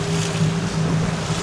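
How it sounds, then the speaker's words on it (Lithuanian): Wind at sea on a small fishing boat out for flounder and herring: steady wind buffeting with a low hum and water sloshing against the hull, continuous and fairly loud throughout. "biškį atsirado vėjukas, buvo štilius"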